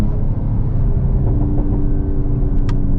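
A 2022 Mercedes-AMG GT 53 4-Door with the optional exhaust drones steadily while driving, a loud, low engine rumble from inside the cabin, with a brief higher crackle near the end.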